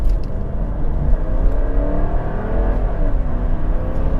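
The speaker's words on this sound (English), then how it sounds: "I like this 5-litre V8 because it's in quite a lazy state of tune" A Mercedes R230 SL500 with a naturally aspirated 5-litre V8 idles and runs close by, a loud steady low rumble with a slight rising whir and no voices.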